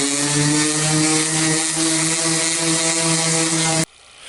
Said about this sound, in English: putty off with my orbital sander.